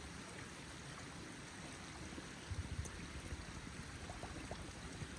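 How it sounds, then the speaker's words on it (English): Water from a clear outdoor stream on a cold-weather backpacking trail flows in a steady close rushing wash, with a few soft splashes and dips as a container is filled midway through. "So let's go get some water in that nice clear water over there."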